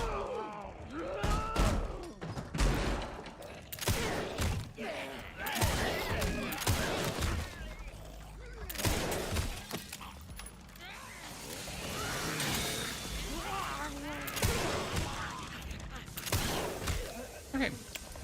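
The Requiem gun in Resident Evil Requiem fires slow, heavy, booming shots spaced a second or more apart, about a dozen of them. Other game sounds and voice-like tones fill the gaps between shots.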